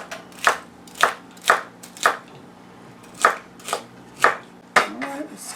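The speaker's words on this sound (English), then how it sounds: "We're going to chop that up pretty fine because we're going to cook it rather quickly" A kitchen knife chops celery fine on a board in nine crisp, evenly spaced strikes close by, with a faint hum behind and a brief voice sound near the end.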